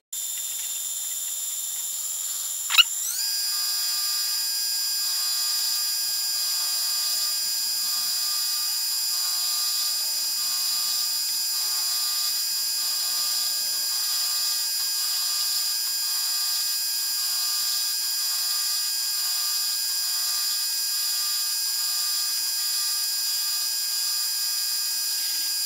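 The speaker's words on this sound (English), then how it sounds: "So we're going to be basically doing conventional milling." A milling cutter takes a conventional cut in metal while building a Stuart Turner No. 8 mill engine, starting with a sharp bang and then settling into a steady, high, whining machining tone that carries on alone.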